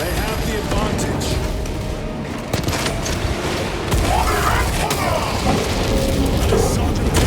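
Heavy gunfire and booming blasts from the Space Marine 2 video game battle against Terminators, a dense, loud, continuous barrage with voices faintly mixed under the din.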